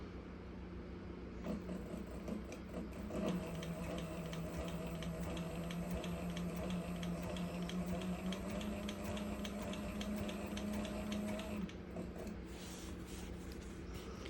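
A Cobra Class 26 sewing machine stitches leather, running as a steady mechanical hum with a rapid, regular needle rhythm for about ten seconds, close and fairly loud, with no talking.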